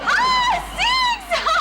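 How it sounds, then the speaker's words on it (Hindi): A crowd at a cricket match heard over a television cheers and shouts in three swelling, high-pitched waves, loud and continuous across the short span. "जरूर सुष्मिता क्रिकेट का मैच देख रही होगी।"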